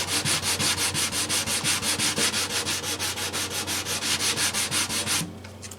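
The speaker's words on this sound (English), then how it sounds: "I'd like to give it a little sand. Almost 220 grit." A vintage 1940s Gibson J-45 acoustic guitar's wood gets hand-sanded with 220-grit paper, close rhythmic back-and-forth rasping strokes, about four per second, continuing for five seconds before stopping, with no talking.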